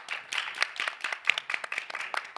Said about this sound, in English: A round of applause for Aditi.